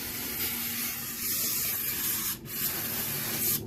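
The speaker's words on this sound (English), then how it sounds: "I'm going to use brake cleaner because I can't find my spray bottle" A steady, close hiss of an aerosol can of brake cleaner spraying, running almost the whole time, broken by one brief pause.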